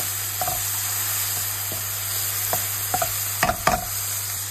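A vegetable broth mixture with pepper, chili flakes and garlic powder is stirred in a hot pan, giving a continuous sizzle broken by a few sharp scraping stir strokes near the end.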